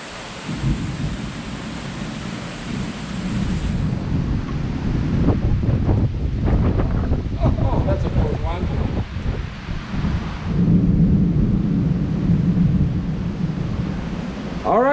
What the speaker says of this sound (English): The downpour is coming up.